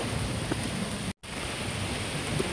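Steady rain falls in a park, a dense, even hiss with no distinct drops, broken by a brief moment of silence partway through.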